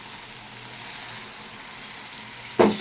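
Spices with salt, chili powder and turmeric frying in a pan give a steady background sizzle, then a splash of water hits and sets off a sudden brief, loud hiss near the end.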